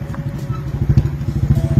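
Motorcycle riding along an empty rural road, its engine putting out a low rapid pulsing thump that grows louder partway through, heard close up.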